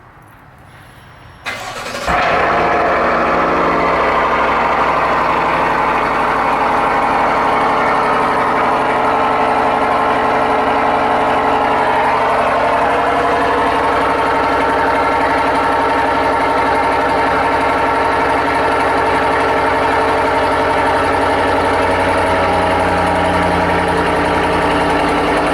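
Cadillac Escalade fitted with a Corsa Sport exhaust fires up from a cold start the morning after sitting, a sharp catch and rev flare settling into a steady, loud, continuous idle for over twenty seconds, with no talking.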